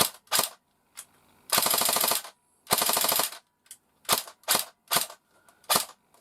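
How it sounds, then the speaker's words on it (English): Electric blowback airsoft rifle, a Jing Gong SA58 (LK58) FAL, firing with no magazine loaded: sharp single shots and two longer full-auto bursts, loud and close, with no talk. "we have electric blowback, which is awesome."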